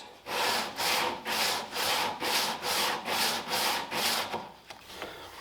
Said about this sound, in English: I just have a flexible sanding strip here